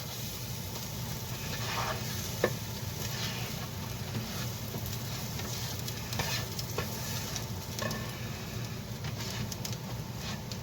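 Scrambled eggs stirred in a hot frying pan give off a steady, faint sizzle with soft scraping and stirring clicks throughout, no voices present.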